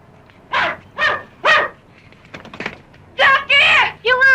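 A pet poodle barks near and loud in a run of sharp barks with short gaps, some higher yelping calls mixed in.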